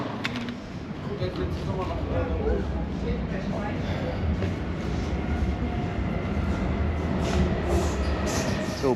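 A train rumbles through Düren station in Germany at close range, a loud continuous roar with rattling and faint high squeals over the whole stretch.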